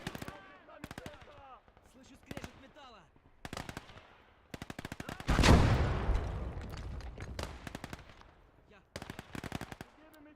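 Machine gun bursts in a Battle of Stalingrad battlefield game: repeated short rapid volleys through the clip, with one louder, longer roaring blast in the middle, fairly close and sharp.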